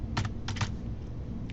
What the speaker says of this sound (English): we can change it by just typing in